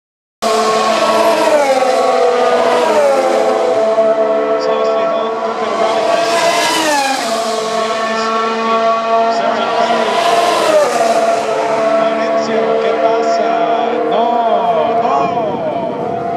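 Formula One race cars at the 2016 Australian Grand Prix pass in loud, continuous high-pitched engine whine, pitch rising and falling in repeated swells as cars scream by, with a commentator talking over the roar.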